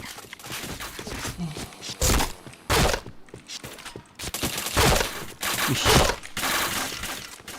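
Bursts of gunfire in a shooting video game, several sharp loud volleys separated by short gaps, with scattered clatter between them.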